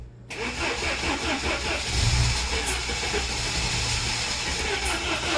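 A classic Saab being revived, its engine cranking briefly before catching and settling into a steady, close mechanical running drone.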